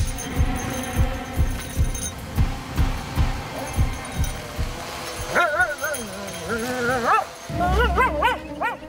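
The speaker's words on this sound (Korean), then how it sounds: "그런데 이때 갑자기 짖는 미르" A cadaver detection dog searches a burned fire scene and barks excitedly, with a steady run of rhythmic barks followed by higher whining yelps, while people talk in the background.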